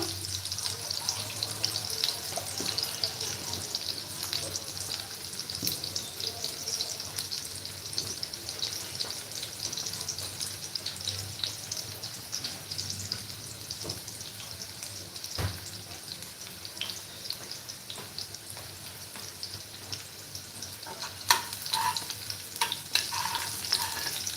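Vegetables fry in ghee in a pan with a steady, bright sizzle lasting throughout. Occasional stirring scrapes and soft knocks sound close by, and no one speaks.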